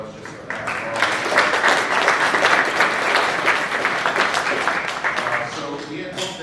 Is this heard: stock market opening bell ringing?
no